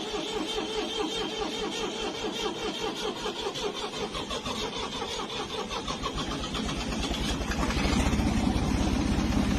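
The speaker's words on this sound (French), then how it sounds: "Tu nous mets un bruit de moto pour te réveiller" Motorcycle engine sound set as a wake-up alarm, the motor firing up and running with rapid rhythmic pulsing, growing louder and heavier toward the end, heard alone without talk.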